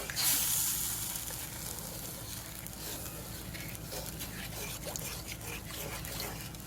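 Sweet and sour chicken sauce thickened with a cornflour slurry bubbles and sizzles steadily in a pan while being stirred, a soft continuous frying hiss with faint scraping, close and fairly quiet.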